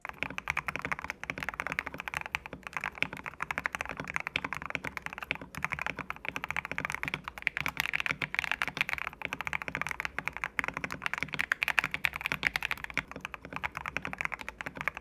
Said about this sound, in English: Let's try some lubed and filmed V2 Gat Black inks.